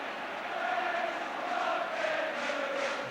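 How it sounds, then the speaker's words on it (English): Football crowd at a Celtic versus Partizan cup match singing "We shall not be moved", a steady, distant massed chant with a faint sustained melody, continuous for the whole stretch. "the crowd singing "We shall not be moved""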